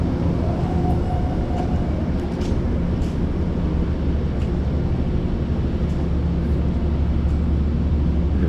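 A commuter train heading for Grand Central rumbles steadily past at close range through a station, a loud continuous roar of rolling wheels with faint metallic clicks, and no voices.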